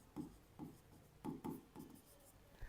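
A pen or chalk writing words on a classroom board, several short scratchy strokes in quick bursts, faint and close, with no talk.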